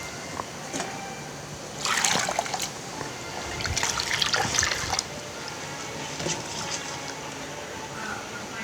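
Rice and urad dal being washed in water in a home kitchen, heard as swishing, trickling and pouring in bursts over a steady background hiss, with no talking.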